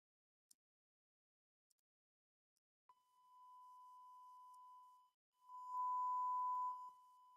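Steady sine wave tone generated by a GNU Radio flow graph on a software-defined radio setup, starting after a few faint clicks, holding level, briefly dropping out, then returning much louder as the gain rises.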